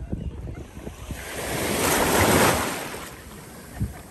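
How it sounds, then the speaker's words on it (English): Waves wash onto a broad, popular beach at Magens Bay with very flat water, a steady surf wash that swells to a peak midway and eases off, with some wind buffeting the microphone and no talking. "It's a popular beach here."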